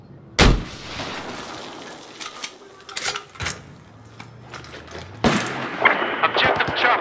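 Mortar fire in a Battlefield game lands as a series of sharp explosive bangs, one heavy hit early and more scattered blasts later, with a low engine hum and clatter in between.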